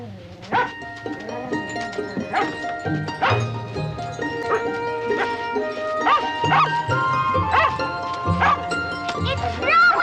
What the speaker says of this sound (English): What's Jack barking about?